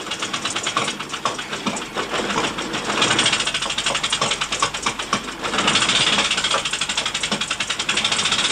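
A motorbike engine runs steadily and loudly for the whole stretch, a rough continuous drone with a fast pulsing beat, close by and with no talk.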